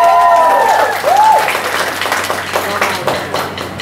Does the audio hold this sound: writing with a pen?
no